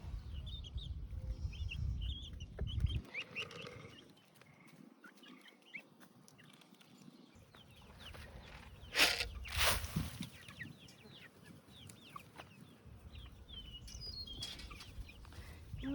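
Bantam chickens cluck softly in the background with scattered chirps and a brief burst of wing flapping, fairly faint and outdoors.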